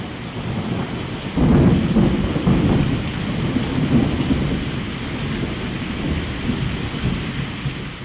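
A thunderstorm pours heavy rain over a humid forest, a steady loud hiss with a deep thunder rumble swelling early on and rolling on beneath, with no voices.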